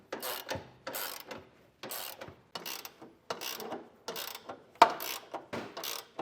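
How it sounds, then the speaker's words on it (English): A 15/16 ratcheting wrench tightens bolts on fifth wheel hitch base rails, giving repeated quick bursts of close, crisp clicking separated by short pauses, each bursting pass on the pawl clearly audible with no talk. "using a ratcheting 15/16 wrench to get those tightened down"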